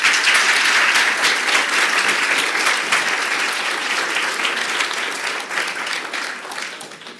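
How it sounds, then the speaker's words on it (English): A large audience breaks into sustained applause at the close of an all-female panel discussion at a research institute open day, loud and dense at first, then slowly thinning and fading. "join me in thanking panellists"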